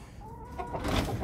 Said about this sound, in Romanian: 3 găini și un cocoș.